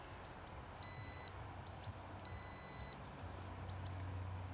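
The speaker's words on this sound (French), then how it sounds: "il sonne pour dire que il y a continuité dans le câble" Multimeter continuity beeper sounding on an automotive cable, two clear high-pitched electronic tones each lasting about half a second, over a faint background hum.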